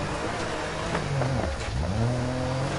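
Rally car engine from the Dirt 4 video game, a steady loud drone with pitch rising and falling as the car accelerates and eases off through corners, continuous for the whole stretch.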